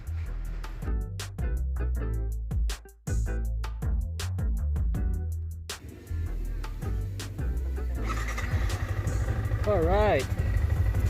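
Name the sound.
Yamaha R15 v3 motorcycle engine starting and idling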